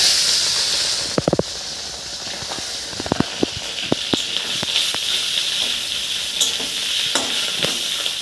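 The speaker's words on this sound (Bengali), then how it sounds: "ডিমের ভাজার জন্য আমি সর্ষের তেল দিয়ে দিচ্ছি" Fish roe, rubbed with salt and turmeric, fries in mustard oil with a steady bright sizzle throughout, broken by several sharp spatters and scraping stirs of a spatula in the pan; no voices.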